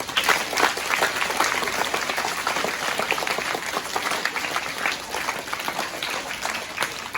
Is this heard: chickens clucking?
no